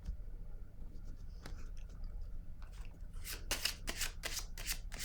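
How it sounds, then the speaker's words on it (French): Tarot cards shuffled and drawn by hand: a faint, soft papery rustle early on, then a run of crisp, close riffling snaps near the end, with no speech. "Là, je vais piger une autre carte sur elle."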